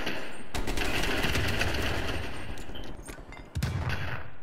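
Gunfire from the video game Black Ops Cold War, played in Prop Hunt mode: a dense, loud burst of rapid shots runs for about two and a half seconds, dips briefly, then a second sharp burst erupts near the end.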